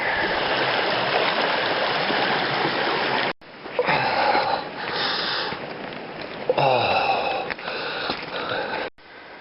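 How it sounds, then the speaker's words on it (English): A mountain stream rushes down a wash on a hike toward Mount Reba, a steady loud close roar that drops out briefly, returning with heavy breathing and sniffing over the water. "Here's the great wash coming down."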